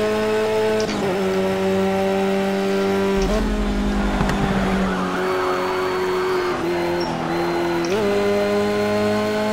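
Race car engine from the Project CARS video game, heard from outside the car: a loud, steady harmonic engine drone that rises and drops with gear changes, with brief tire skid noise in the middle.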